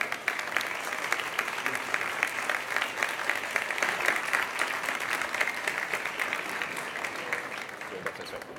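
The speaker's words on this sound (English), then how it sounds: "please join me in our big round of applause welcoming Satya Nadella on stage" An audience at a Telefonica press event at Mobile World Congress Barcelona 2019 welcomes Satya Nadella on stage with steady, sustained applause from a large hall, dense and even throughout with faint voices beneath.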